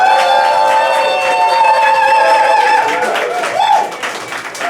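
A comedy roast battle crowd votes by noise: loud sustained whoops and cheering voices, with scattered hand clapping growing through the second half.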